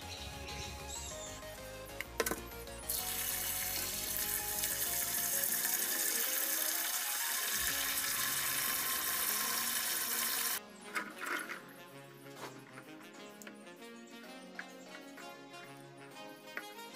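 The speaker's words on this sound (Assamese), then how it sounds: "আমলখিৰ আচাৰ বনাবৰ বাবে মই প্ৰথমতে আমলখিখিনি ধুই লওঁ।" Amla, Indian gooseberries, being washed under running water for pickle-making, a broad loud rush of tap water that fills most of the clip, then cuts off into softer splashes and drips.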